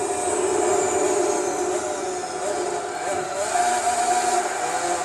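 Two race car engines in Gran Turismo 4 roar together during the Grand Valley 300 km endurance race, a loud, steady sustained drone of overlapping engine notes with shifting pitch, with no talk over it.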